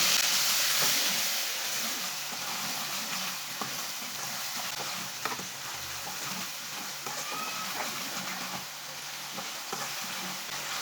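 Chopped tomatoes and green chillies are stirred into garlic in a hot frying pan, giving a constant loud hissing sizzle with occasional soft scrapes and clinks of the spoon, close up.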